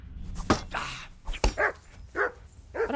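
A dog in Kingdom Come: Deliverance II barks a few short, sharp times amid scuffling and sword-fight clatter, fairly close, over a busy medieval game background.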